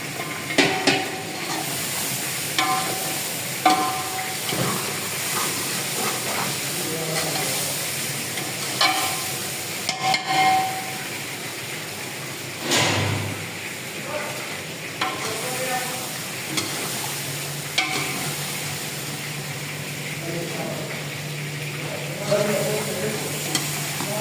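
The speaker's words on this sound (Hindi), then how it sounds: "इसमें डालूंगा मैं घी, टुकड़ी को घी डाल दूंगा इसमें" Ghee sizzles in masala for Sindhi beh as it is stirred, with a continuous frying hiss broken by repeated clinks and scrapes of a spoon against the pot, fairly close and loud, and faint voices now and then.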